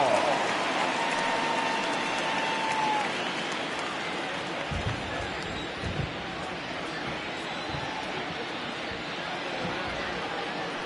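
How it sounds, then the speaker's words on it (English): Steady rain hissing down over a baseball stadium during a St. Louis home game, a dense continuous wash with faint crowd murmur and a few dull thumps underneath, no clear talk. "the rain starting to intensify here. It's coming down a little heavier now."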